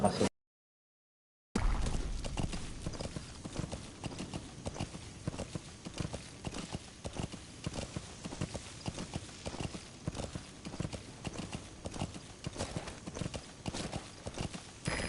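Steady rhythmic clip-clop of horse hooves trotting in the video game Metal Gear Solid V: The Phantom Pain, continuous and fairly close, with a brief silent gap near the start.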